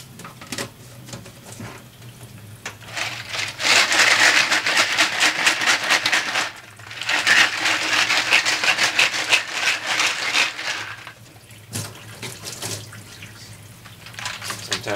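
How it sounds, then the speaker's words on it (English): Hot water runs from a tap into a container while it fills, a steady splashing gush that swells louder in two long stretches and eases between them. "I've got some hot water running."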